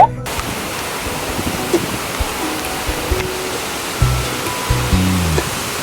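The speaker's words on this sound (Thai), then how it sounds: "แล้วก็ จะเจอน้ำตกตรงนี้" A waterfall on Koh Samui roars as a steady, broad wash of rushing water throughout, constant and fairly loud, with a few faint knocks and low thumps from people moving nearby.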